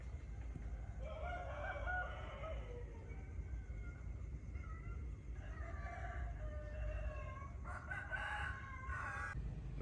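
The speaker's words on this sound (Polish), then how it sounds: "Jest 3:00 nad ranem, a tu koguty pieją." Several roosters crow in succession at 3 a.m. in Cambodia, some distant and some closer, over a quiet low rumble of background noise.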